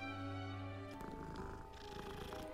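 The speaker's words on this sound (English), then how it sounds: "Oh, it purrs." A pet cat in the video game Hogwarts Legacy purring steadily while being petted, a low continuous rumbling purr heard close up and alone, with a brief shift in tone partway through.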